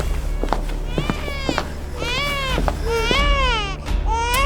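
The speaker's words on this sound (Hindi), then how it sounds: "जल्द ही उसके रोने की आवाज सुनाई दी।" In an animated story, a newborn baby girl cries in a prison cell with repeated rising and falling wails and sobs, loud and close over a steady low background hum.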